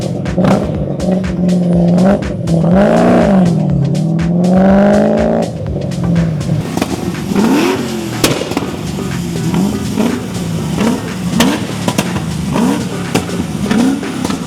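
BMW E30 with a swapped LS3 V8 engine revving: loud, deep rumbling blips that rise and fall repeatedly, with sharp crackling pops between revs, close by and without talk.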